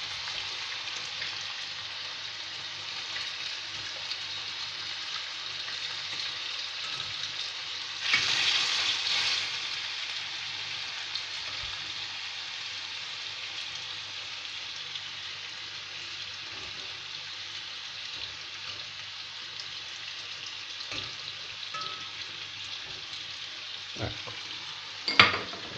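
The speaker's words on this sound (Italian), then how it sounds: "E ci tuffiamo gli spaghettini." Spaghettini hit a frying pan on a low flame, giving a steady, loud sizzle throughout with a brief surge of crackling partway in and a sharp clatter near the end.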